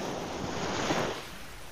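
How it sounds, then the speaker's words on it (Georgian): Waves wash and slosh around a fishing motorboat out at sea, a soft continuous surge with some wind noise, no talk. "ცოტა ტალღა გვაქვს."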